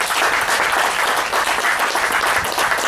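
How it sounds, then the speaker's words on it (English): Dense, loud crowd applause for the Lac du Flambeau School at a homecoming celebration on Strawberry Island, an even wash of many hands clapping throughout. "So I want to give them a big round of applause, the Lac du Flambeau School."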